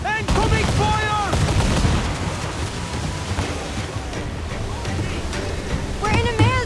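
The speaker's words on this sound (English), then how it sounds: "Incoming fire!" Incoming cannon fire during a naval battle in Assassin's Creed IV: Black Flag sounds as loud, rolling blasts over surging sea and wind, with crew voices shouting at the start and end.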